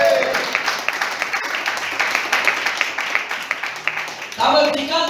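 Congregation clapping during a church service, rhythmic applause with a voice over it, then a louder voice cutting in near the end.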